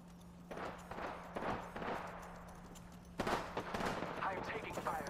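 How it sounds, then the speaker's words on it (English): Enemy gunfire in Apex Legends arrives as bursts of shots, a handful of spaced cracks followed by a denser volley, moderately close, with a steady hum underneath and the player talking over it. "The enemies are shooting at me."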